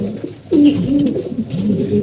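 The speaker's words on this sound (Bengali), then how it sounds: "আর আমাদের কবুতর দেখেন এই বাচ্চা কবুতরগুলো এখন কত অ্যাক্টিভ" Young pigeons coo softly in low, rolling murmurs, a steady warbling hum that swells briefly and carries on without pause.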